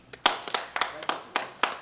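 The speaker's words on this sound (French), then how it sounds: "Applaudissez pour lui." A studio audience clapping in a French-language comedy show, a short run of sharp, distinct hand claps arriving in an uneven but steady rhythm, fairly close and moderately loud, with no talking over it.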